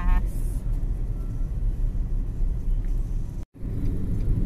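Steady low road rumble from inside a moving car, continuous and close, with a brief dropout near the end; a person talks over it.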